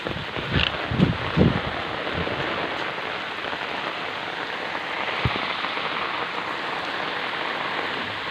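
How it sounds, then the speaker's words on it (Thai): Rain falls in a steady, dense patter across surfaces, close and continuous, with a few louder drops or knocks near the start. "ฝนก็ตกมื้อนี้"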